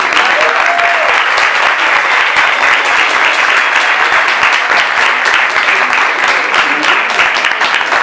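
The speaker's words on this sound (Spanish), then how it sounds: "Un aplauso, por favor." Loud, dense audience applause thanks the panelists after a talk on Bogotá's climatic and geological history, continuous and close for the full span with no speech over it.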